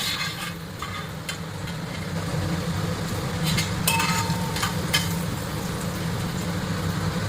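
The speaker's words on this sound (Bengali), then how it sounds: "দেখতেই পাচ্ছেন আমি এখানে বাটার আর তেলটা দিয়ে দিয়েছি।" Butter and oil sizzle steadily in a pan as the base for chicken stew, a continuous close hiss with occasional brighter crackles and stirring scrapes throughout.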